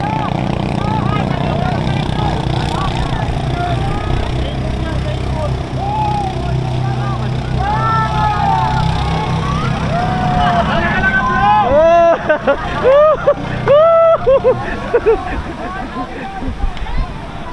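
Racing boat engines at a San Jose Beach boat race competition, a continuous low motor drone with whining pitch sweeps rising and falling as boats pass, under crowd babble and people talking.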